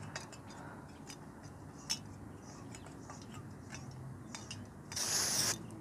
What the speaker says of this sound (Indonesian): Jadi cukup masukkan si slotnya ini ke gasnya,